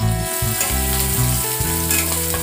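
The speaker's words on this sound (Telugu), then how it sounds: "ఆలు వేగిపోయిన తర్వాత curry leaves and green chillies వేసి వేయించుకోండి" Curry leaves and green chillies fry with cooked potatoes in a hot pan, giving a loud, steady, close sizzle that continues throughout with faint tonal background sounds.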